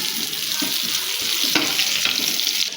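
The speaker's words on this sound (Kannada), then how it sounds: "ಈಗ ನೀರುಳ್ಳಿ ಹಾಕಬೇಕು ಇದಕ್ಕೆ. ಇದನ್ನು ಸ್ವಲ್ಪ ಚೆನ್ನಾಗಿ ಫ್ರೈ ಮಾಡ್ಕೋಬೇಕು." Chopped onions fry in a pan with green chillies for paneer butter masala, giving a steady, close, loud sizzle throughout, with a few soft stirring knocks.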